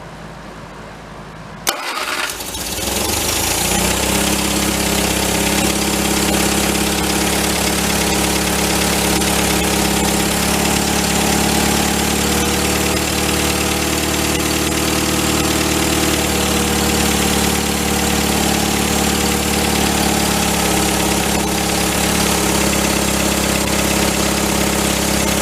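A 1953 MG TD barn find settles into a steady, loud idle after a brief start, its mid-pitched engine rumbling on continuously with a slightly uneven tone and no talk.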